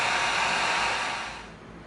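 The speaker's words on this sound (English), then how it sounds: "Now you hit it with the heat gun, and it opens the slit up." Heat gun blowing steadily on EVA foam, a loud close rushing hiss of hot air that holds for about a second and then fades slightly, with no talk.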